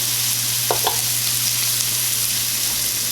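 About eight ounces of salted brown mushrooms sauté in a pan, giving a steady, close, even sizzle with a couple of faint clicks early on; no voices.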